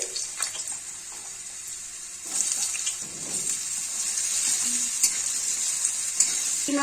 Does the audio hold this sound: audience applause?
no